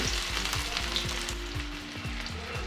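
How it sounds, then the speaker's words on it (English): Chopped ginger, garlic and onion fry in hot oil in a pan, a steady close sizzle running throughout with rhythmic low stirring scrapes, no voices. "Now added chopped ginger garlic, then after added chopped onion,"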